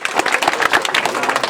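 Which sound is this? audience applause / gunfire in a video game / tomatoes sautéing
audience applause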